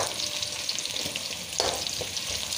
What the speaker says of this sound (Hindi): इसको हम अच्छे से जो है वो फ्राई करेंगे ताकि लहसुन का भी कच्चापन दूर हो जाए।